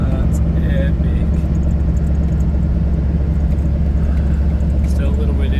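A car driving along a road, heard from inside as a loud, constant low engine and road rumble with no breaks.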